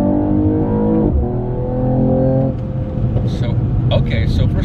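A Mercedes-Benz E53 AMG coupe with 429 horsepower accelerating hard in Sport Plus mode, a loud rising engine drone through gear changes, heard from inside the cabin with a brief crackle near the end.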